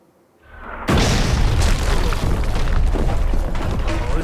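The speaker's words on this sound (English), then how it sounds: "I thought the Pragas didn't have a cannon." A cannon blast in the video game Kingdom Come Deliverance 2 erupts after a near-silent moment into a loud, deep boom that rolls on as a sustained roar with no speech.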